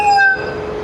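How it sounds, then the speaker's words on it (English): Slow Moroccan passenger train approaching, a short loud metallic squeal fading into a rumbling rolling noise, heard nearby with no talk. "And here you have the train approaching, one of the slow trains of Morocco."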